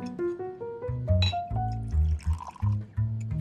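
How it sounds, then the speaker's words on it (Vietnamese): Water is poured into a cup indoors, a trickling pour whose pitch steps upward as the cup fills, close and moderately loud, with no talking. "Được, để tôi rót cho cô."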